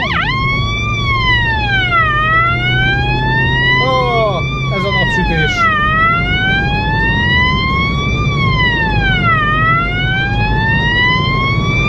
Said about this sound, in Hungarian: de szóval a lényeg a szirénának a hangja